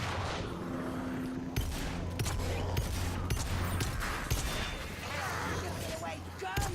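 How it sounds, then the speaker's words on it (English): Skaven rat gunners open fire in the Vermintide video game, a dense, rapid stream of cracking shots rattling on continuously at close range, with a steady hum and some talk mixed underneath. "Skaven gunners. I can hear them."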